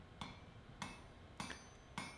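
A blacksmith's hammer strikes hot steel on an anvil while drawing out a taper for a scythe peening anvil, four sharp ringing blows spaced evenly about half a second apart, fairly faint.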